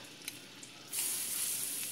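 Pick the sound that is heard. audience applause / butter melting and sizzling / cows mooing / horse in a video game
butter melting and sizzling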